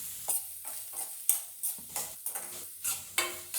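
Onions and dried anchovy (nethili karuvadu) fry in a pan as a spoon stirs in a steady rhythm, each scrape rising over a soft, close sizzle, with no voices.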